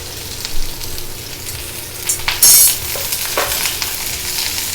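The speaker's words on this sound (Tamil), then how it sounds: "வெங்காயமும் இஞ்சி பூண்டு பேஸ்ட்டும் சேர்த்து" Chopped onion and ginger garlic paste frying in a pan of oil alongside capsicum and green chili, a steady close sizzle with crackling bursts and brief stirring scrapes.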